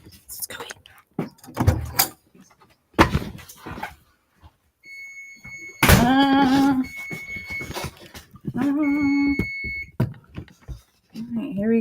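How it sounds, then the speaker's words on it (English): A kitchen oven timer goes off while stuffed bell peppers bake, sounding a few sustained electronic beeps in separate bursts between loud clatter, footsteps and a person's voice nearby. "Timer's about to go off in the next 5 seconds."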